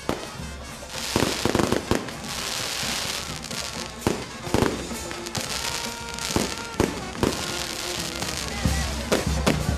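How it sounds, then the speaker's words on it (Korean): Fireworks crackle and bang continuously at a saint's festival in Nicaragua, with sharp loud reports and fizzing bursts layered over a dense, roaring background of explosions. "폭죽을 터뜨리는 것으로"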